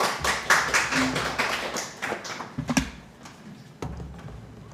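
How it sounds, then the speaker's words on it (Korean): Light applause from a small workshop audience at a Korean internet governance forum greets a presenter, a thin patter of claps that fades after a few seconds into scattered taps. "박수로 맞아주시면 감사하겠습니다."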